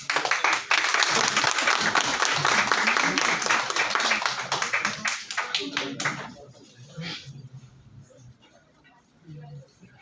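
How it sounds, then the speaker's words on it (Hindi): Audience applause at a ceremony, dense and loud clapping for about six seconds that then fades into scattered claps and light background voices. "ताली बजा दिया करो।"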